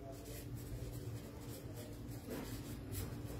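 A pen scratches across paper while a profit-and-loss math problem is worked out, faint short strokes repeating in quick irregular bursts at close range in a quiet room.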